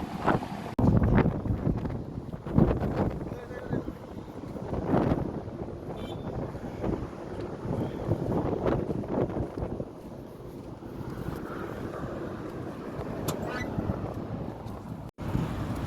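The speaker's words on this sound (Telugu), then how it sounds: "గాలి అయితే ఒక రకంగా లేదండి మొత్తం ఇసుకతో వచ్చేస్తుంది" Strong, gusty sand-laden wind roars and buffets the microphone throughout, with a steady low rumble and no voices.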